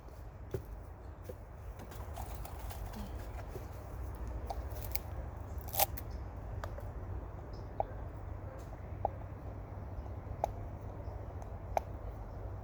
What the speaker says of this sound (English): you will punch 2 more holes, and these holes is to put the zip ties in.